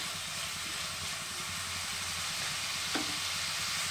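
A spice paste with tomato is fried and stirred in a pan, making a quiet, continuous sizzle with a low rumbling undertone and one faint clink near the end.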